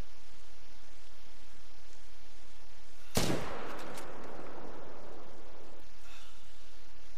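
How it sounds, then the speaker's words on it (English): A single rifle shot at a red deer in the hunting video game theHunter: Call of the Wild, one loud sharp crack followed by a rolling echo that fades over a few seconds, with steady hiss from the game's ambience underneath. "Eh, that wasn't too good of a shot on him."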